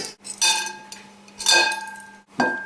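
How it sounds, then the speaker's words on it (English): Whole wheat flour and baking powder stirred in a bowl for homemade dog biscuits, giving three clinking, scraping bursts of a utensil against the bowl, close and moderately loud, with no talking. "we're going to stir that"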